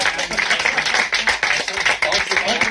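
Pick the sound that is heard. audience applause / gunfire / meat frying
audience applause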